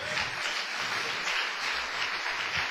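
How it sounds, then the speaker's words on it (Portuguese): A congregation applauds together at a church service, a dense, steady wash of many hands clapping throughout with no voices standing out. "você tem que dar uma salva de palmas para o Senhor"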